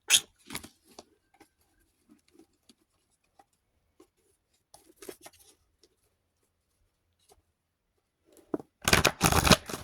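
Playing cards being shuffled by hand in a quiet room, scattered soft riffles and light taps separated by silence, ending in a loud, dense burst of rapid riffling near the close.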